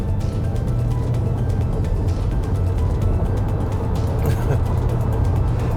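A 2022 Haval H6 Ultra Hybrid SUV pulls hard onto a freeway in sport mode, a steady low engine and road drone with tyre and wind roar, continuous and fairly loud from inside the cabin.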